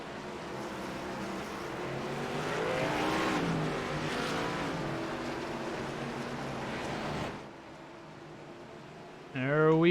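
Race car engines roar around an oval track in a sim racing game at North Wilkesboro, a sustained whining drone swelling and easing over commentary-like voices, then dropping as another engine revs sharply near the end.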